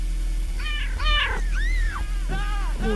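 A cartoon cat in the video game Tasty Planet Forever meows several times, bright, close and loud, with rising and falling calls over a steady low game hum.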